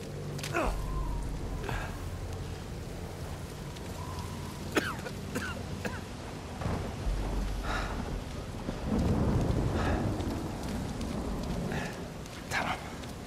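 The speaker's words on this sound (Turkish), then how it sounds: "Binader bu yağmur efekti" Rain and thunder ambience from the video game Uncharted 4, with steady rainfall, occasional sharp cracks and low rumbles, and someone talking intermittently over it.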